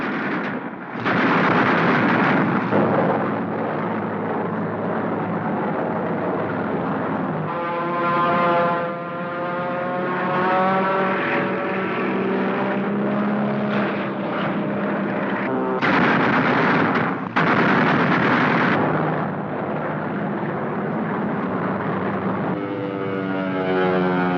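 Republic P-47 Thunderbolt fighters in WWII combat: a loud, continuous droning engine roar with shifting pitch that swells and fades across the whole stretch, with occasional harsher bursts.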